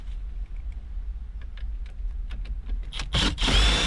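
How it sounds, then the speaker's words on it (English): A Phillips head screwdriver works out the side screws holding the stereo in a 2006-2011 Toyota Yaris at a scrapyard. Close, irregular metallic clicks and scrapes build into a louder rough grinding near the end, with no talking. "take your Phillips head screwdriver"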